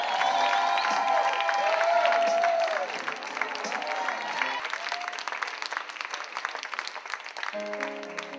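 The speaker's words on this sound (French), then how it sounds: "sous vos applaudissements bien sûr" An audience claps for a performer being welcomed onto a stage. Dense, loud applause with a few voices and cheers comes first, then it settles into steady clapping that continues to the end.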